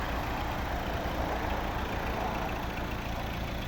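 A 2016 Volvo V60 with a 2.0 diesel engine idles with a steady, low, even rumble, close by and continuous, with no voices over it.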